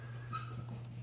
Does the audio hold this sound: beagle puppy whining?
yes